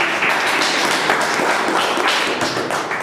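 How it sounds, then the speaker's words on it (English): Audience applause at a Toastmasters club meeting, a brief burst of close, dense clapping that stays loud and even for a few seconds. "Big round of applause for you."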